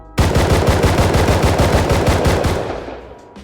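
M9 firing in Rust Console Edition, a rapid automatic burst of evenly spaced close shots for nearly three seconds, then fading out.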